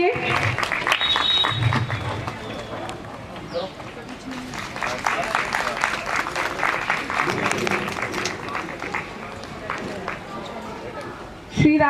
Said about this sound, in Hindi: तालियों की गड़गड़ाहट कम ना हो।